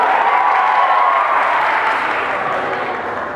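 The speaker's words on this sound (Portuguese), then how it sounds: "Palmas pra ele." A circus crowd at the Los Campelos circus claps in a broad, continuous wash of applause that holds loud and then eases slightly toward the end.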